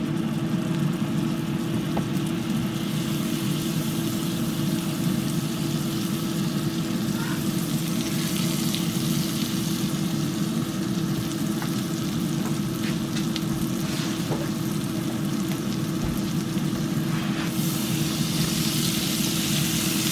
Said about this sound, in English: Fry them up till I think they're done enough.